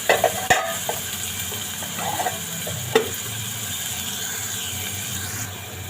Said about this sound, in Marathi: टॅमॅटो घालणार आहे। मी 2 छोटेसे टॅमॅटो चिरून घेतले।